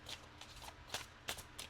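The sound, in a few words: shuffling tarot cards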